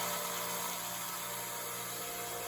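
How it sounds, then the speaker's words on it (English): An electric drill bores extra holes through a forged saber-style knife's handle, giving a steady, continuous whirring hum at close range throughout, with no voices. "I drill these extra holes, which only helps to hold in the epoxy"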